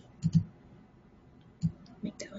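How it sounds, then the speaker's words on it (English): Computer keyboard shortcut keys pressed indoors: a few short, sharp clicks come in small clusters near the start and again toward the end, with quiet gaps between. "So I can hit Control-C, Control-V to paste another version of this."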